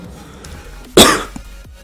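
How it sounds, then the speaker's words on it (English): A single sharp cough, close and loud, breaking a quiet room with a faint hum. "I gotta mute my mic, I'm gonna cough"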